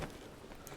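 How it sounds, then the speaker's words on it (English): Steady rain falling in the Breath of the Wild video game, a continuous even hiss of drops throughout the short moment with no voices. "Actually, that sucks. It's raining."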